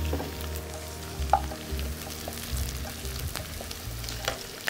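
Bay leaves dropped into a hot frying pan, giving a steady close sizzle of oil with a few small pops and stirring scrapes, no voices.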